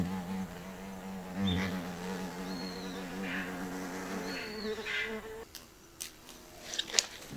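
Giant hornets hover at a beehive, their buzzing close and droning in rising and falling passes before fading, followed by a few sharp clicks and knocks.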